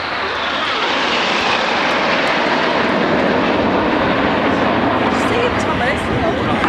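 A loud, steady roar of RAF aircraft flying overhead in a wedge formation during an air show display, a dense continuous engine drone filling the sky, with an announcer talking over it.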